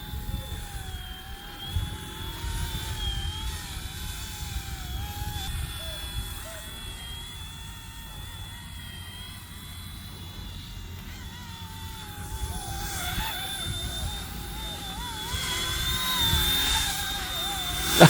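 An RC ERA 186C PRO radio-controlled helicopter flying outdoors on a windy day, a high, wavering motor whine with shifting pitch and rotor buzz, close and fairly loud, swelling toward the end.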